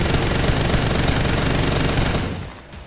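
Custom M416 assault rifle in PUBG: New State firing a sustained full-auto burst, dense, loud and continuous for over two seconds before cutting off abruptly.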